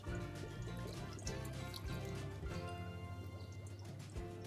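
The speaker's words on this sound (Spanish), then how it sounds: "Esta agua la volvemos a introducir." Water poured back into a home spirulina culture, a continuous close splashing pour with trickling and dripping texture throughout, without speech.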